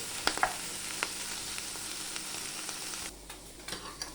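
A chicken and mushroom cream curry bubbles and sizzles in a pan with a steady frying hiss, broken by a few sharp clicks and taps of stirring, then quieting slightly near the end.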